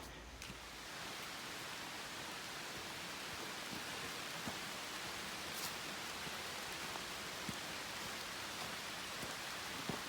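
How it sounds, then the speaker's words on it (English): Rain falls on the forest canopy during an October hike in Lake Lurleen State Park, a steady, even wash of hiss with no voices. "it sounds like it's raining pretty good"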